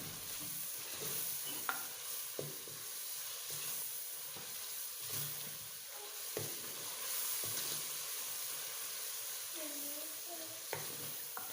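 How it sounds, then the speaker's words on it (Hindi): Chicken mince with capsicum frying in a pan, a continuous soft sizzle and hiss with occasional spatula scrapes and taps, fairly quiet and unbroken by talk. "अभी 1 से 2 मिनट इसको भून लेते हैं।"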